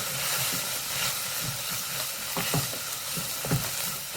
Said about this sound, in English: so we're frying the onions, just to make them soft